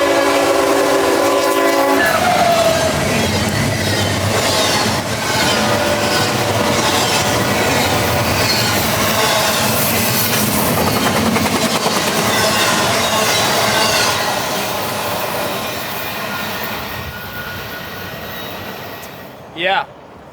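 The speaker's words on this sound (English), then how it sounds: "tonight's IO-44 from Tampa, a very lackluster train this evening" A freight train from Tampa, the IO-44, rushes past at about 50 miles an hour, its loud wheel roar and clatter filling the scene, with a horn sounding near the start and the noise fading toward the end.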